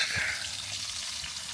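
Bacon, ribeye steak and eggs frying in a pan at a campsite, making a steady, close crackling sizzle that holds evenly throughout with no pauses.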